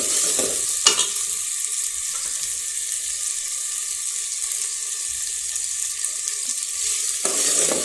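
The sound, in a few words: stirring rice with carrot and vegetables in a pan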